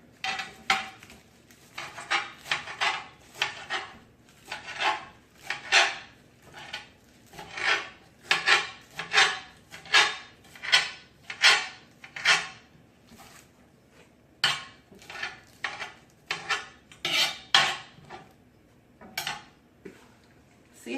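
A knife chops fresh spinach on a cutting board for a cheesy spinach and bacon dip, a long run of crisp, close, uneven chops and taps, sometimes in quick bursts, with short pauses between.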